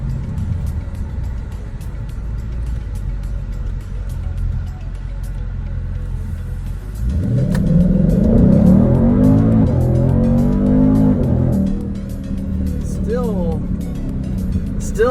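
A fast car launches from inside the cabin: a steady engine hum under conversation, then a sharp surge into a loud, rising acceleration roar that eases back after several seconds, with voices talking throughout.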